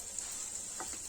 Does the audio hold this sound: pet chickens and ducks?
no